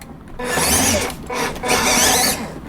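A WPL B36 RC 6x6 military communications truck's small electric motor whirs in two close bursts, rising and holding with a short dip between, loud and near with no talk.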